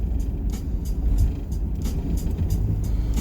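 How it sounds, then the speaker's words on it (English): A salt-spreading truck rolls along the road close by, a loud steady engine and tire rumble with scattered crackling hiss, no voices. "Right behind this truck, he dropping salt and different shit like that."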